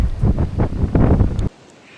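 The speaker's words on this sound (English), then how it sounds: "It's still gonna be windy here" Strong gusting wind on the Appalachian Trail at Big Bald buffets the microphone in rough, rumbling surges, then cuts to a much quieter hiss of breeze.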